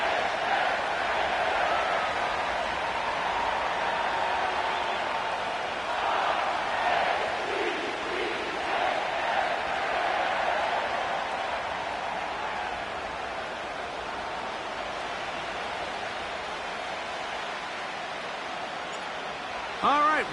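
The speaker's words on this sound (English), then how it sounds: "The crowd is definitely ready." A big stadium crowd for an EA Sports football game at M&T Bank Stadium, home of the Ravens, in Baltimore. The roar is broad and steady, continuing for the whole stretch, with commentary over it.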